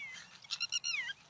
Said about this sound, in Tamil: அந்த பறவை தான் தம்பி.